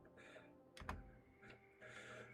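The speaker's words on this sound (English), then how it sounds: "I'm typing right now, Blend." Keys tapped on a computer keyboard at a streamer's desk: a few soft, scattered clicks at low volume, with no one speaking.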